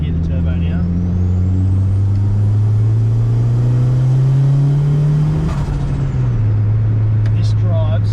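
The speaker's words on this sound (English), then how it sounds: "There we go, we hear the turbo now." A turbocharged D16 engine in a budget-built 300 hp Honda Civic EJ8 pulls hard under boost. A low, steadily rising engine drone dominates with a thin turbo whine above it, the pitch easing off near the end while people talk.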